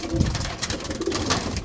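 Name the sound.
pigeons cooing in a loft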